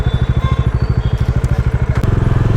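A motorcycle engine thumps at idle in a fast, even pulse, loud and close while the bike is being parked, with light clatter over the beat and a slight shift in tone near the end.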